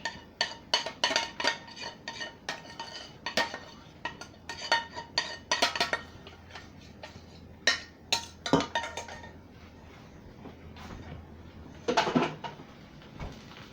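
Shrimp spaghetti stirred in a pan, with a steady run of close metal clinks and scrapes from a utensil against the pan, busier early on and then thinning to scattered taps over a faint low hum.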